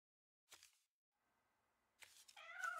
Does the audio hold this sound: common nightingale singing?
no